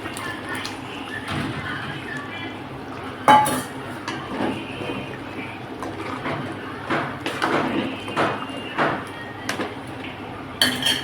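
Dried fish curry being stirred in a pot, with a spoon scraping and clinking against the metal in uneven strokes, fairly close, plus a louder knock partway through.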